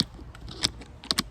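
Keys clacking on a 32-year-old computer keyboard, a few irregular close taps with two sharper strikes near the end, the surface faintly shaking underneath, no voices.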